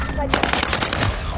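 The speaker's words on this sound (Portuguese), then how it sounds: "Estão atirando em mim!" Close, loud automatic gunfire in the video game Call of Duty Warzone, a rapid burst of shots lasting just over a second and filling the whole clip.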